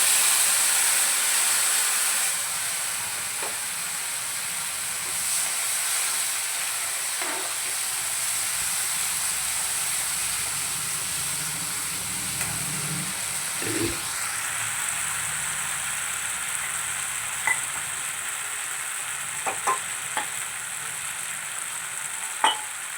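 Garam masala and whole spices sizzle steadily in hot oil for a paneer dish, with occasional sharp pops and spoon stirring. The frying is close and continuous, with no talking.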